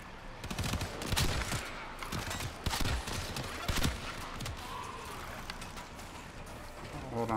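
Rapid bursts of gunfire from the video game Warframe, dense and overlapping in quick volleys through the first four seconds, then thinning to scattered shots.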